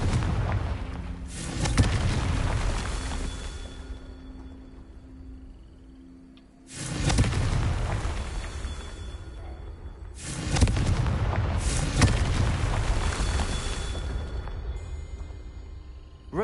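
Spell explosions from Confringo blasts boom in a Harry Potter video game, three heavy bursts each rolling into a long rumbling decay, loud and close with no voice over them.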